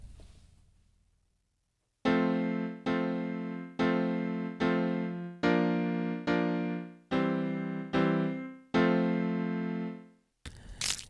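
Piano-like default tone from the Microsoft GS Wavetable Synth, assigned to a MIDI channel while recording, strikes eight separate decaying notes in an even series after a quiet start, then stops with a brief noise.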